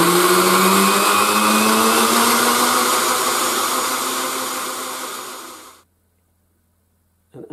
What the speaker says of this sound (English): Put the lid on and run it high for about a minute.